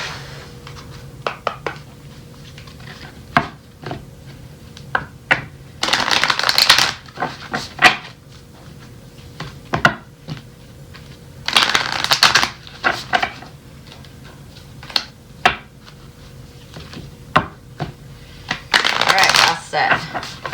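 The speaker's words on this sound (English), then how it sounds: "I'm moving all my cards around there." Tarot cards being shuffled and moved around on a surface, with several bursts of riffling and sliding spread across the stretch between light taps and handling noises, while a voice talks intermittently.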